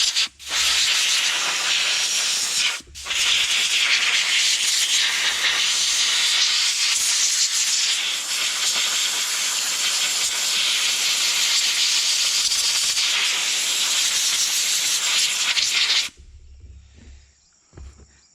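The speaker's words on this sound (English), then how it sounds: "So what I usually do is I use a little blow gun like this." A compressed air blow gun blasts debris out of a chainsaw, making a loud, steady, close hiss that runs about sixteen seconds with one brief break near the start, then cuts off abruptly.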